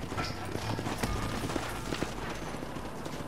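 Horse hooves clip-clop in the Western video game Red Dead Redemption, a steady galloping patter of hoofbeats under a dense bed of ambient game noise, with faint voices in the mix.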